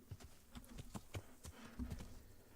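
Horse hooves clip-clop in the Kingdom Come video game, a steady rhythmic gait of close, moderate strikes with no talk.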